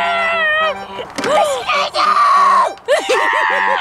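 A young child screams and squeals excitedly while peering through a microscope at insect parts, shrill cries rising and falling, close and loud, with other voices talking around them.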